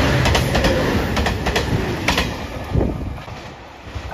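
A JR Shikoku 2700 series limited express diesel train runs past on the Kotoku Line for about four seconds. The rumble and wheel noise are loud and close, with rhythmic clickety-clack of the wheels over rail joints.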